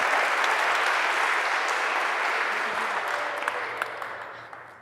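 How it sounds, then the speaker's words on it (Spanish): A studio audience gives a long, dense ovation of clapping on a television show, loud at first and easing slightly toward the end, with a few sharp individual claps standing out. "con esta ovación de la gente que la acompaña"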